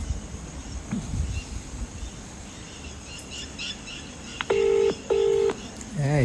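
Two short, clear phone keypad dialing tones sound in quick succession while placing a call to a friend, over a faint outdoor background of birds and insects.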